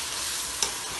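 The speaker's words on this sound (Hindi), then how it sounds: "और ये भून रही है।" Bottle gourd (loki) sabzi frying in a pan over high heat gives a steady, hissing sizzle with a brief louder spatter partway through.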